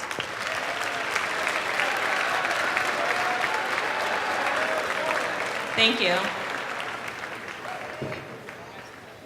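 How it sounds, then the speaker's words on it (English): Audience applause fills a school gym at a high school pep assembly, steady dense clapping throughout, with a brief voice saying thanks near the end. "So please give them a round of applause."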